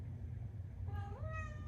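A cat meows once indoors, a short rising and falling cry in the second half, fairly close over a low background hum, with no speech.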